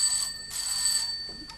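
A telephone rings with a bright, trilling bell in two loud bursts separated by a short gap, followed by a fainter third ring, with no voices over it.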